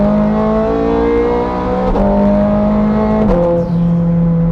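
A Ferrari 430 Scuderia engine winds up through the revs, a loud steady harmonic howl that climbs and then drops with two quick gear changes, heard alone with no voices.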